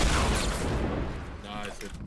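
RPG rocket launcher fire in Fortnite Battle Royale, a loud booming blast with rumbling gunfire and explosions in a busy firefight, fading into lower-level battle noise toward the end.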